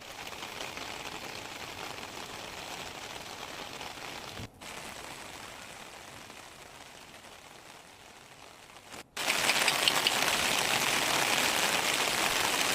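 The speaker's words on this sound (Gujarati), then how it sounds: "હિંમતનગર શહેર અને ગ્રામ્ય વિસ્તારમાં વરસાદ પડી રહ્યો છે" Steady rain hisses continuously over villages near Himmatnagar, Sabarkantha, broadband and fairly loud, with two brief dropouts and a louder, denser downpour in the final few seconds.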